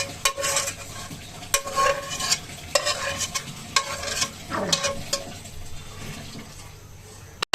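Bottle gourd peel, green chilli and salt stirred and frying in a pan for a mash, a close sizzle broken by repeated scraping strokes of a spatula, with no talk over it.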